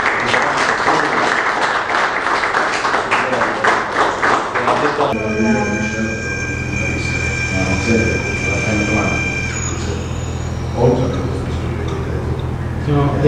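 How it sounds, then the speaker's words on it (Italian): Applause from a group after a seabed recovery operation, a dense burst of clapping for about five seconds, followed by background chatter and ambient noise. "Quindi un applauso a tutti quanti."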